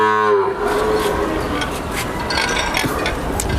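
A Sahiwal heifer gives a short, deep, close moo at the very start, and then a steady broadband rumble of farm background noise carries on to the end.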